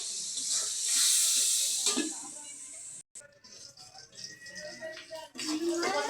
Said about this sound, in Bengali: এই চামড়া কিন্তু অনেক সময় ফোটে, আর এর জন্য আমি ঢাকা দিয়ে দেবো যেন গায়ে ছুটে না লাগে।